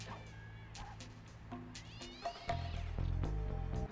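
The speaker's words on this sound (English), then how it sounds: "we just heard cat meows" Cat meowing inside the video game Sly 2 during Dimitri's nightclub level, a few drawn-out meows over looping game music that swells louder partway through.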